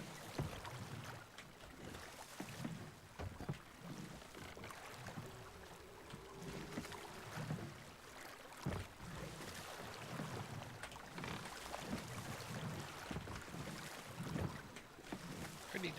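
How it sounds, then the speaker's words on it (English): Little rowboat tossed by rough sea waves in Sea of Thieves: steady wash of water and wind with dull sloshing swells throughout, faint and continuous, with no distinct talk. "my little rowboat can last against these waves I'm getting thrashed about"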